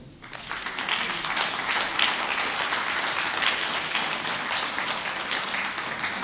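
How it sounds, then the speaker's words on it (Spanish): Church congregation breaking into strong applause after a prayer, a dense, sustained round of clapping that starts abruptly and stays loud throughout. "un fuerte aplauso"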